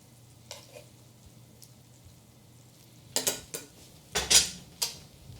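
Scallops hit a pan for a scallop pasta in a creamy dill and garlic scape sauce, giving a few sharp clatters and short sizzling bursts close by after a quiet start, with no talking.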